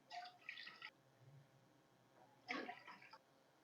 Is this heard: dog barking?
no